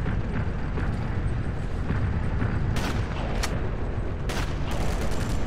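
Gunshots from a weapon in the World War II shooter Sniper Elite, with a few sharp cracks punctuating a dense, continuous roar of battlefield noise.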